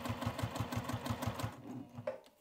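Sewing machine stitching across the bottom edge of fabric, a quick rhythmic run of even needle thumps that slows and stops after about a second and a half, followed by a faint click.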